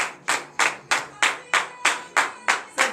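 A church congregation at a morning prayer service claps in a steady, loud unison rhythm, about nine evenly spaced claps in quick succession.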